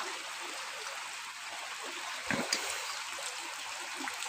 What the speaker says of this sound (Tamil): பாருங்கள் எப்படி ஓடுது தண்ணி